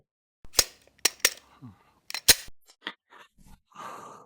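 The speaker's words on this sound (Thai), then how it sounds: "ผมเดี๋ยว ลองยิงให้ดูเลยแล้วกันนะครับ สักสามนัดนะครับ" A Glock pistol wrapped in anti-slip grip tape fires three sharp, loud shots in quick succession at close range, followed by brief handling noises and faint voices.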